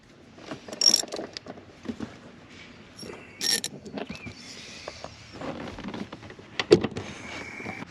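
A ratchet works on the 13mm front seat bolts of a 2005-2014 Ford Mustang, giving intermittent bursts of clicking and metallic clunks over several seconds, close and moderately loud with pauses between strokes.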